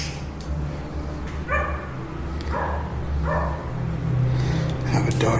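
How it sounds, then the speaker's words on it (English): A dog outdoors at a cemetery at night barks several times in a steady series of sharp, mid-distance woofs over a rumbling background. "I have a dog yelling at me on the outside."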